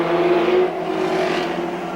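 A race car with an engine problem and smoke coming from it pulling into the pits, a steady, loud droning engine note heard close, without talk.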